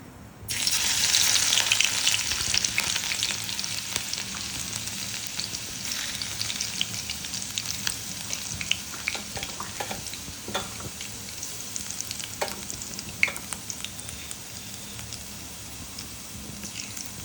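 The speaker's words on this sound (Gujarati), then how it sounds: "અજમો તતરે એટલે આપણે અંદર જે વાટેલું લસણ અને મરચું છે તે નાખી દઈશું." Crushed garlic and green chili drop into hot oil with ajwain for sponge gourd sabji, giving a sudden loud burst of sizzling that settles into a steady crackling fry with scattered pops and stirring scrapes, close and without talk.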